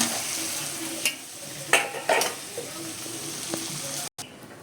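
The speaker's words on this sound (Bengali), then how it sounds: "এই যে আলুটা দিয়ে দিলাম।" Potatoes dropped into spiced oil in a frying pan, turmeric, cumin, chilli and coriander powder already cooked in; soft sizzle under several sharp clinks and scrapes of a spoon against the pan, close by.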